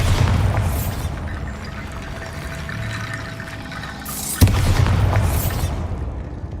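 A Bombarda spell going off in a Harry Potter video game: a dense, rumbling wash of noise broken by one sharp, loud blast about two-thirds through, followed by heavier roaring rumble.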